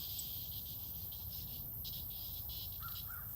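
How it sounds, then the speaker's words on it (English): Outdoors, a cicada buzzes in short, raspy, shimmering bursts over a steady background hum, fairly close, with no one talking. "She messing with a cicada right now."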